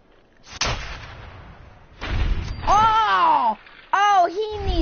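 Gunfire in the Fallout video game: a sharp shot near the start and a louder burst around the middle, with a person's voice speaking over the later part in game character tones.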